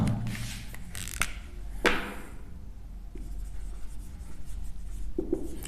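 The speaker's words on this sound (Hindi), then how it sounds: "तो चलिए अब मैं एक बार इसकी डेफिनेशन लिखता हूं" Pen scratching across paper while a definition is written out in a physics lesson, giving close, dry strokes and quick scribbles with short pauses between, no speaking.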